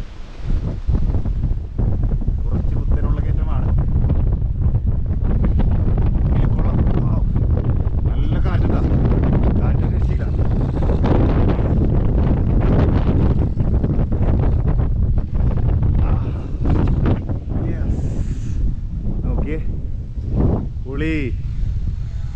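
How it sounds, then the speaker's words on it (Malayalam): Strong wind blasts steadily across the microphone at a hilltop lake view during tent camping in Munnar, Suryanelli, a loud continuous roar throughout with a voice speaking now and then under it. "ആഹാ, എന്താ കാറ്റ്!"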